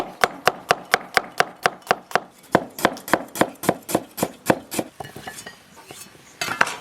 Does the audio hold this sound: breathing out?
no